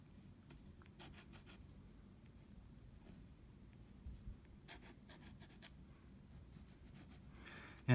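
A dip pen scratches ink onto textured watercolor paper while a cartoon children's book illustration is drawn, making faint, close, intermittent scratchy strokes over a steady low background rumble.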